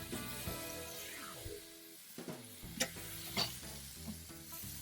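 Burgers and buns for Cajun cheeseburgers sizzle steadily on a griddle, a close hiss with a few scraping clinks over background music.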